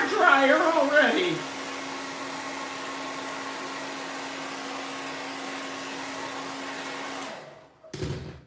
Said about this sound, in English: Stop with the hair dryer already!